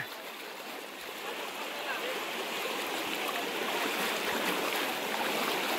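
The Ratuwa river rushes steadily, a loud broadband wash that grows slightly stronger, with voices faintly mixed in.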